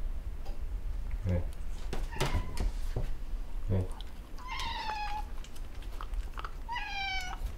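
Cats meow indoors at home, with a few clear rising meows close by amid soft background sounds and a voice.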